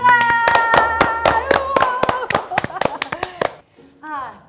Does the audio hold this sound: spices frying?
no